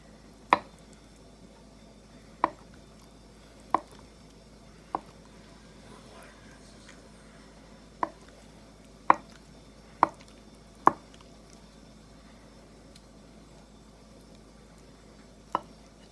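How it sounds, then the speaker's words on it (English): Knife slicing firm tofu into big squares on a cutting board, eight or nine sharp, sparse taps with irregular pauses between them, close and quiet in an otherwise still kitchen. "I'm just going to cut this into big squares."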